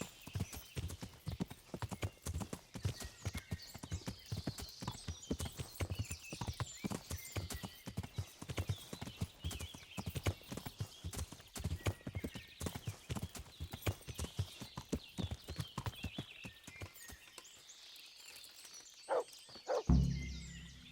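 Horse hooves clip-clop in a fast, steady rhythm for a long stretch in the video game Kingdom Come: Deliverance, then slow and stop, with a brief whinny near the end.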